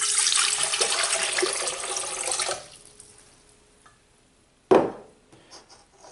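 Water pours steadily from a measuring cup into a KitchenAid mixing bowl for pizza dough, a loud rushing stream that stops abruptly, then a brief clink and light handling noises.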